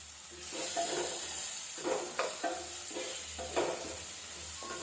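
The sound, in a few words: curry leaves sizzling as they are added to hot oil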